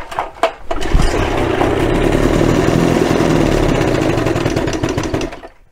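An 18hp Evinrude outboard motor that sat unused for over 30 years is cranked in neutral, catches after a few sharp pulls and settles into a loud, steady, close-up running drone before fading at the end.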